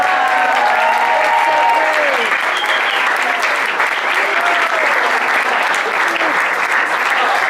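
An audience at a School of Rock show in Fort Washington applauds loudly and continuously, a dense wash of clapping with scattered cheers and voices throughout.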